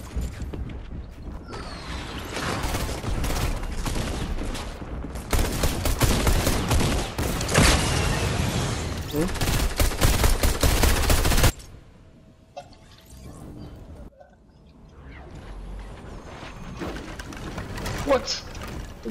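Gunfire in Fortnite Team Rumble, heard as dense, sustained rapid shooting for about ten seconds and then sparser, quieter shots and clicks, with a voice speaking over it.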